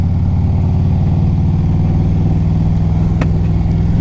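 A 2007 Harley-Davidson Electra Glide Standard with Reinhardt exhaust pipes runs loud and close, its engine throbbing in a steady deep pulse while riding, with one sharp click near the end.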